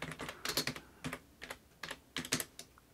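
Quick, uneven bursts of keystrokes on a computer keyboard as a layer name is typed into Photoshop, close and clear, with short pauses between clusters of key presses.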